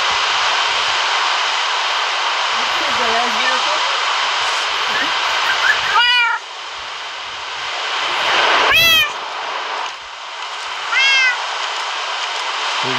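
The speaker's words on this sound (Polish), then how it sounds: "widzisz jaki kot?" A cat meows in the Minecraft video game, several short rising meows spread over a steady droning background hum.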